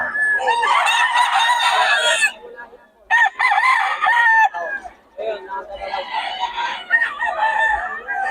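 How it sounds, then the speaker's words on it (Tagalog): Several roosters crow loudly and close by, one long call after another with brief pauses between, no talking over them. "Mga solid ang mga manok ni Boss Russell ngayon, no?"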